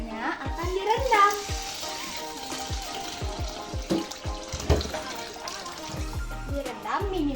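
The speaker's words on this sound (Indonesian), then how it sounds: "Lalu ketannya akan direndam." Water splashes and swishes as glutinous rice is soaked for tapai ketan, with close sloshing and a few sharp clinks, while a voice with pitched, melodic tones carries over it.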